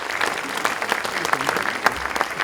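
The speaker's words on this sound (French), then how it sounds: "On peut vous applaudir encore une fois." Conference audience applauding after a drone talk, a dense close burst of clapping held steady for a couple of seconds, with faint voices mixed in.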